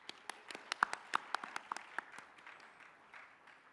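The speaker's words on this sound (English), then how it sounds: "I want everyone to clap for yourself for showing up on a Sunday morning." A small group claps for themselves at a Sunday morning session, sparse scattered hand claps that thin out and fade over a few seconds.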